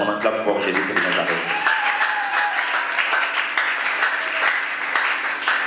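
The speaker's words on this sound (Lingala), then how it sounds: "Quand il passe, on acclame fort Jésus de Nazareth." A church congregation applauds and cheers for the arriving pastor, with dense, continuous clapping and raised voices filling the room throughout.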